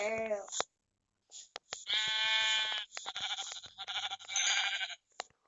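Sheep bleating in a survival video game, several wavering bleats in bursts across the clip, loud and close, with quiet gaps between calls.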